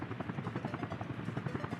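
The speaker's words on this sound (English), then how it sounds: "I think the helicopters are gonna help us a lot." A helicopter in the city-building game Workers & Resources: Soviet Republic gives off a steady, close rotor thumping that pulses evenly and never stops, with no talk over it.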